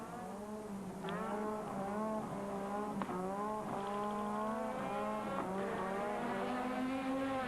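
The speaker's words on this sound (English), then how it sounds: "A lot of spinning wheel now" A 1985 Formula 1 racing engine revs and holds steady tones, with sharp rises and brief shifts as tires spin, loud and close throughout.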